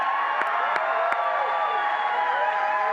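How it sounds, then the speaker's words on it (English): A crowd at a political rally in Bangor, Maine, keeps up a sustained roar of cheering and whooping, with a few sharp claps or pops near the start and a steady, even loudness throughout. "So let's give a round of applause to John Featherson and Steve Robinson."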